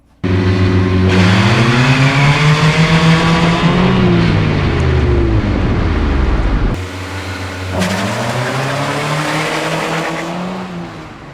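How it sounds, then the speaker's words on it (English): A Mazda Miata with a newly fitted limited-slip differential launches hard, its engine roaring up through rising revs with tire squeal, then shifts and pulls again, loud and sustained up close. "I actually launched this Miata for the first time ever"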